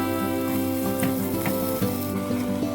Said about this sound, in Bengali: ওই একই তেলের মধ্যেই আমি আলুগুলো দিয়ে দিচ্ছি। এই আলুগুলোকেও আমি হালকা একটু ফ্রাই করে নেব।